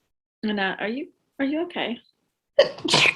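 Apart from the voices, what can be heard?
a person sneezing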